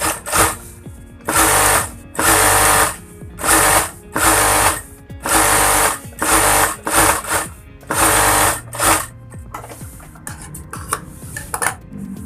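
Stitching a shirt button placket on a sewing machine: loud, close bursts of rapid needle clatter start and stop about a dozen times, with short quiet gaps between runs, and no talking.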